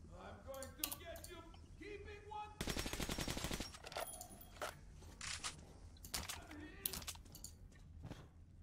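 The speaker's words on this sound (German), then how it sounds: "Ich weiß, weil ich dich angeschossen habe." Gunfire in the video game Metro: Last Light, with several sharp shots and a dense burst of automatic fire in the middle, set among game sounds and voices.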